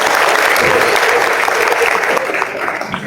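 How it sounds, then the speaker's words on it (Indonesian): A crowd applauds loudly and steadily, a thick, continuous clapping close by with voices faintly mixed in, easing off slightly in the last moments. "Bagus, tepuk tangan."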